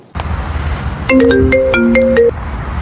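A phone rings with an incoming call, a loud electronic melodic ringtone of short tonal notes that plays for about a second after a brief rustle of background noise.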